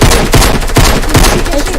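Rapid bursts of video game gunfire crackle in a steady rhythm, loud and close, filling the whole short stretch with no voices over it.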